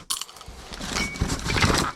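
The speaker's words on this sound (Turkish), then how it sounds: "Biraz bozuk para var." A handful of loose coins from a storage clear-out clink and jingle close by, in a sharp initial rattle followed by a busier run of small metallic chinks.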